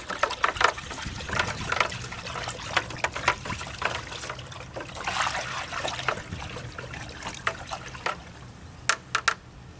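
Organic fertilizer with Epsom salts is stirred in a container of water, giving continuous close sloshing and trickling with small splashes and occasional knocks, no talking.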